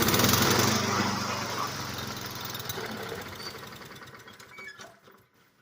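A Honda Harmony II lawn mower engine sputters and tries to run, loud and close at first with a rough, knocking drone that gradually weakens and dies away, with no voices.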